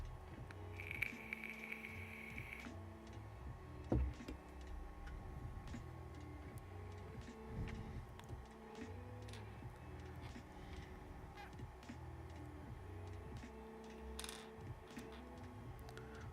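A Voron V0.2 3D printer runs while printing gold silk filament, making faint, steady stepper-motor whirs and soft ticking movements in a quiet room, with a brief high whine early on.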